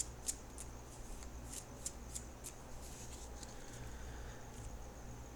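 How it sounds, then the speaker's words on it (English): Tarot cards being shuffled by hand, a soft, steady riffling patter with brief sharper snaps, faint and close with no talking. "Now I'm going to shuffle"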